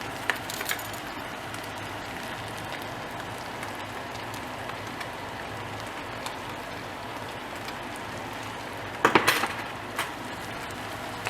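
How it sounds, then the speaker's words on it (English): Shredded carrot being stirred in a pan under a constant soft sizzle, with a few faint scrapes early on and a brief cluster of louder utensil knocks and scrapes toward the end. "And then we're going to stir it in"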